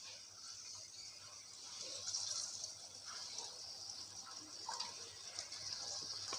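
Water poured into a pan of spice paste already fried down in oil, giving a steady soft gushing hiss with faint clinks, close and alone for several seconds.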